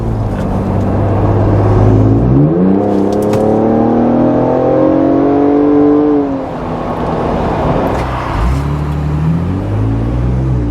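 Ford Bronco Raptor engine fitted with an S&B cold air intake, revving up from idle in a long rising pull, holding high, then dropping back to a steady idle; loud and close, no talking.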